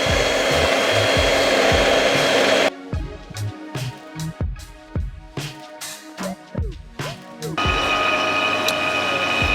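A loud, steady motorized whirring vacuum pump runs continuously while pulling a vacuum for ring casting, stops briefly for a stretch of clicks and knocks, then starts up again.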